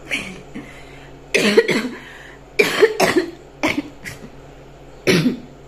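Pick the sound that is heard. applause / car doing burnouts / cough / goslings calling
cough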